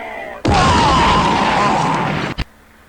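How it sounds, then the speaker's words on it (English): A sustained, buzzing synthetic zap with a faint wavering whine on top, lasting about two seconds, then cut off by a brief pop. "take this the laser firing sound right out"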